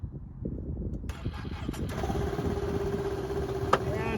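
A vehicle parked on a four-place ramp trailer starts up with a quick crank and then settles into a steady, fairly close idle over a low rumble.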